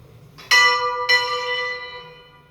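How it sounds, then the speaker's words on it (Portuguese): A church bell in a colonial Brazilian town, São João del-Rei, swings a full turn and strikes twice, about half a second apart, each loud ringing stroke leaving a long humming decay, with no voices. "Aí o sino deu a volta completa, né? Deu 2 pancadas."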